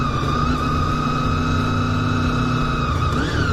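A motorcycle engine pulls in first gear on an on-ramp, a loud, close, steady drone with layered harmonics that climbs briefly near the end.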